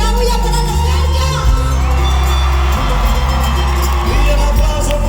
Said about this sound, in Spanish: Una bulla para la estrella.